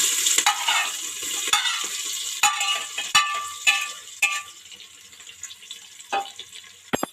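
Onions hit hot oil in a pan with bay leaves and whole spices for chicken biryani, sizzling close by under repeated sharp scrapes and knocks of a stirring spoon, with the hiss easing toward the end.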